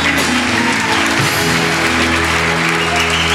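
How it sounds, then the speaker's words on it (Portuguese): A church congregation at a Pentecostal revival service in Foz do Iguaçu applauds, a dense, loud, continuous wash of clapping from many hands, with a low organ or keyboard tone sustained beneath. "Você pode levantar as mãos lá em cima e dar um aplauso para Jesus."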